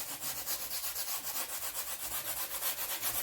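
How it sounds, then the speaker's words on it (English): A brush scrubs turpentine-thinned oil paint onto canvas in quick, even back-and-forth strokes, a steady dry rubbing texture that repeats alone and close by for the whole stretch. "I'm just scrubbing it in."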